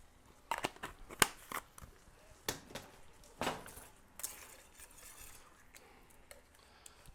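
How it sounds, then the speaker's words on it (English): Seasoning with a pinch of salt and pepper being mashed and stirred by hand, a run of sharp, uneven scraping taps and crunches up close, with quieter stirring between them. "And you mash and stir."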